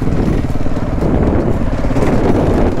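KTM 690 Enduro single-cylinder motorcycle riding a mountain pass in Slovenia, its engine droning steadily and loud with rough, pulsing exhaust and wind noise throughout.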